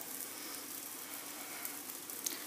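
Moroccan msemen flatbread cooking in a non-stick frying pan, a soft, even sizzle that holds steady and fairly quiet, with no voices.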